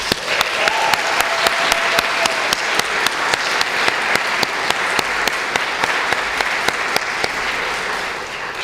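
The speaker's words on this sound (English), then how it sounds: "Let's give the participants, their case managers, and the staff and volunteers who support them a huge round of applause" Audience applause for program participants, case managers, staff and volunteers at a milestone celebration, a dense, steady wash of clapping lasting throughout with sharp individual claps standing out, faint tonal hum early on.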